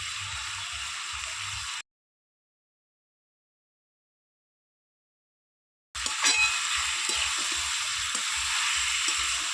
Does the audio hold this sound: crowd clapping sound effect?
no